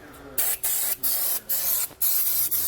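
Brake parts cleaner sprayed from an aerosol can onto the face of a disc brake rotor on a 2020 Jayco Pinnacle trailer fitted with a Kodiak kit. Five close, loud hissing bursts come with brief breaks between them.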